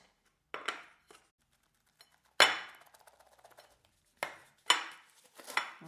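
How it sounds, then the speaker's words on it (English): A fruitcake tin is flipped over onto a plate, giving a few separate metallic clanks and clinks of tin against the plate, with quiet gaps between the knocks. "So I'm just going to flip it over and see if I can get the whole thing out."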